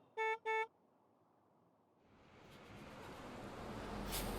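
A bus horn sounds two quick, loud honks, then a steady rushing traffic noise builds up and grows louder.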